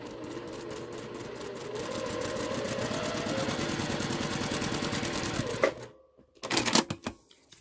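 A sewing machine stitches quilt fabric in a fast, even mechanical rattle close by, then stops abruptly, followed by a few brief handling clatters.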